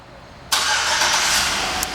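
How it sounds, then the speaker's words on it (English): Remote start of a 2009 Chevrolet Suburban LTZ: after half a second of quiet, the engine catches suddenly and settles into a steady, loud idle with broad hiss and rumble, close by, with no talk. "It's got also remote start, and I'll demonstrate that for you"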